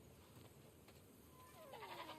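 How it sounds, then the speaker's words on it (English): Sheep bleat in The Last of Us Part II, with one short bleat near the end over quiet ambient game sound. "We definitely have way too many sheep."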